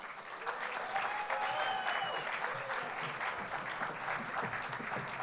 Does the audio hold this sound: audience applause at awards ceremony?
yes